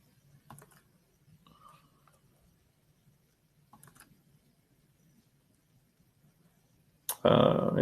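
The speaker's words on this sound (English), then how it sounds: "someone's typing." Keyboard typing picked up on an online presentation call comes in a few faint, brief clattering bursts over near silence, before a sudden loud rush of noise cuts in at the end.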